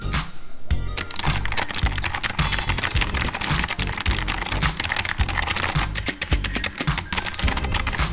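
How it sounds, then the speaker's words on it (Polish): Rapid, continuous typing on a Genesis Thor 200 RGB gaming keyboard with hybrid switches, dense clicky keystrokes heard up close and no talking. "Sprawdźmy teraz, jak działają zastosowane w klawiaturze przełączniki hybrydowe."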